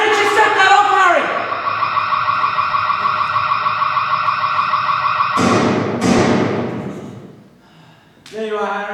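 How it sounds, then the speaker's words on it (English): A loud electric alarm rings in a steady, unbroken tone for several seconds in a 2013 murder drama. It cuts off briefly, returns, and drops away before starting again at the end. "The alarm! The bloody alarm!"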